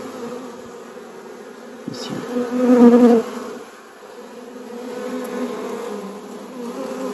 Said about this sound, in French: il y a une abeille qui est en train de naître